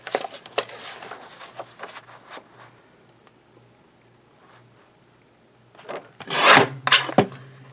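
Hand cutting a narrow metal strip to 3/4 inch, with soft scraping strokes early on and then a louder burst of rasping cuts near the end, close by with no talk.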